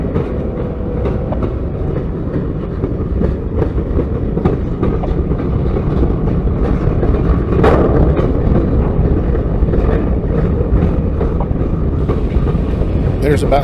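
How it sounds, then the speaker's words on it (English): A CSX freight train rolls by on the ANB Line with a heavy, constant rumble and faint clickety-clack of the wheels, the noise swelling slightly midway and staying loud to the end. "I can hear the other engine that's coming"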